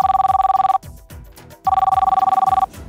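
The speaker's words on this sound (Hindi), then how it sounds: "तब पहलका हमनी के फोन रिसीव कर" A telephone rings loud and close, two long bursts of rapid electronic trilling separated by a short gap with faint background sounds.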